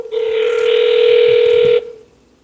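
A steady telephone dial tone sounds loudly for a couple of seconds on a call-back and then cuts off.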